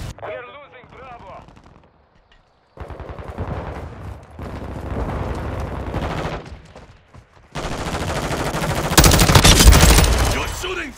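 Gunfire in a video game battle, with bursts of rapid automatic shots and heavy blasts that grow louder and denser toward the end, with a short quiet gap early on and voices speaking between volleys.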